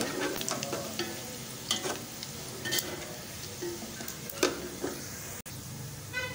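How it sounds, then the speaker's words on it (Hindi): Bay leaf and garam masala sizzle and crackle in hot oil for dal chawal, with a steady frying hiss and scattered pops and stirring clatters close by. "तो हम फ्राई करेंगे"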